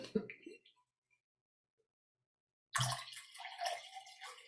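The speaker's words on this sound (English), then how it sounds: "I'm pouring a little bit more coffee." Coffee poured into a cup, a close liquid splash and trickle starting after a stretch of near silence and running steadily to the end.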